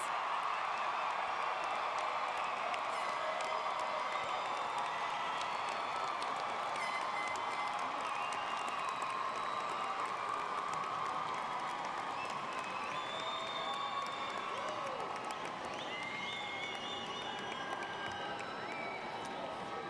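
A graduation audience at Richland College's 2018 commencement claps and cheers in a dense, steady wash of applause with scattered whoops and whistles, sustained for about twenty seconds.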